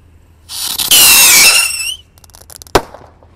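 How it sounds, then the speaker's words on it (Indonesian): A pirotar rocket firework ignites and launches with a loud, rising shriek and hiss that lasts about a second and a half, then fades into faint crackling before a single sharp bang. "Lanjut kita nyalakan roket pirotar"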